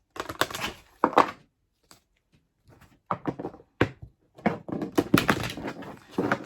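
Tarot cards shuffled by hand in short bursts of riffling and slapping, with brief pauses between handfuls, close and fairly quiet.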